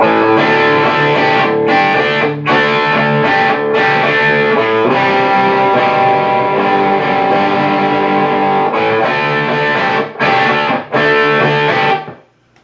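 Distorted electric guitar strums chords continuously, dense and loud, with brief pauses between chord changes before ringing out at the end.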